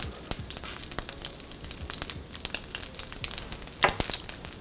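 Garlic sizzles in melted butter in a pan for a mushroom cream sauce, a steady close crackle broken by sharper pops, with no talk over it.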